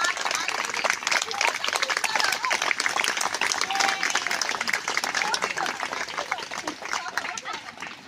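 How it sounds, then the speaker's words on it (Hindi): A large audience at a school annual function applauds vigorously, a dense, continuous roar of clapping hands with crowd murmur that holds strong for eight seconds before tapering slightly. "तालियां थोड़ा खुल के बजाएं ना।"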